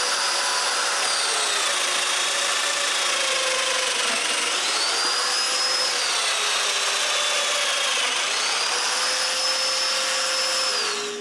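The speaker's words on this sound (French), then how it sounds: "Je marque donc l'endroit où il faut percer les mortaises, puis je les perce." Domino joiner cutting mortises in wood, a loud, close, continuous whining power-tool motor with repeated pitch swoops as the cutter plunges in and retracts, three passes over about eleven seconds, no talking.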